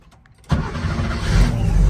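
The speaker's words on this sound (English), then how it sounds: "It fires right up and it runs beautiful." A car with a low-mileage 3.2 engine cranks and fires after a short quiet moment, then settles into a loud, steady idle close to the microphone.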